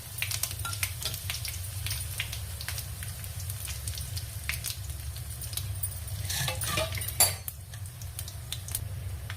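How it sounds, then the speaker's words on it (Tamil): Dried red chilies, urad dal, cumin and mustard seeds fry in hot oil for a spinach dal dish, giving a steady close sizzle with occasional metal spoon clinks from stirring against the pan. "எல்லாம் பொரிஞ்ச உடனே நறுக்கி வச்சிருக்க காஞ்ச மிளகாய் சேர்த்துக்கலாம்."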